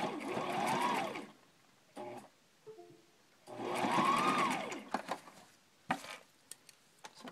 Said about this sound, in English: I'm going to top stitch around the outside of mine